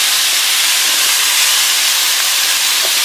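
Ground meat browning in a hot pan for hachis parmentier: a loud, dense, even sizzle that fills the whole moment without pause, close up.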